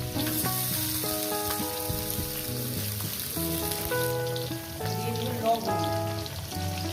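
Potato pieces fry in hot oil for a vegetarian pumpkin and pointed gourd curry, giving a steady, even sizzle throughout, partly under background music.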